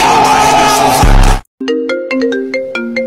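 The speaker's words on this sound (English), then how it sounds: "someone is calling Dad's phone" A mobile phone ringtone for an incoming call plays loud and close, a bright melodic sequence of repeated tones that follows a brief burst of other sound and a short gap.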